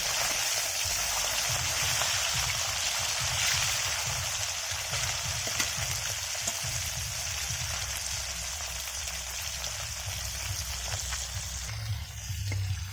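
Koi fish frying in hot oil in a pan, a steady loud sizzle that hisses continuously throughout, with faint scrapes and taps as the fish are turned one by one.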